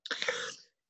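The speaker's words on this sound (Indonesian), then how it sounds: "Batuk kayaknya gatel juga." A single short, harsh cough up close, rough and throaty, ending abruptly into silence.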